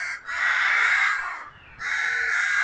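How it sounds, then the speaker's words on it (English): Crows caw loudly in graveyard trees, two long harsh calls separated by a short pause, close and clear with no other sound around them. "And you can really hear those crows"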